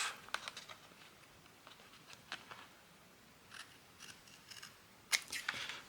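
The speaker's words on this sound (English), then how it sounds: "Let's get some scissors, trim that bit off." A few quick scissor snips trimming paper close by, short crisp cuts in small bursts with pauses between, against a quiet background.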